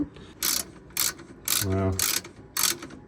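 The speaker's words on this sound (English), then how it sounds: "I'll just tighten up these bolts here" A ratchet tightens bolts on a Mustang Mach 1 exhaust in five short, crisp bursts of rapid clicking separated by pauses, close up, with a brief exclamation.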